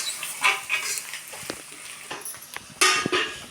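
Onions and green chillies cook in a pan, giving a soft, steady sizzle with scattered stirring scrapes and light clinks of utensils against the pan. The sounds are close by and there is no talking.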